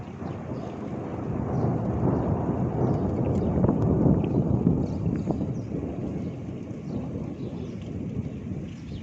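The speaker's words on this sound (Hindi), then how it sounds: "सुबह-सुबह ही फिर से बादल गरजने लग गए और फिर से ही बारिश।" Low, rolling thunder rumbles on and on over wind and rain, a deep continuous roar that swells in the middle before easing slightly.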